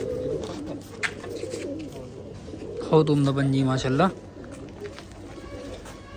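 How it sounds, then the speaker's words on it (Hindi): Rampuri pigeons coo close by, with a throaty rolling call standing out for about a second amid soft background cooing, while someone talks over them. "ये देखो गाइस रामपुरी कबूतर, बहुत उम्दा कबूतर है ये भी।"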